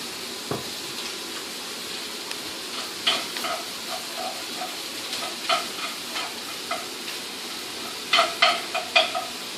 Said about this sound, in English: we're going to add some oil in a hot pan. And we're going to sear them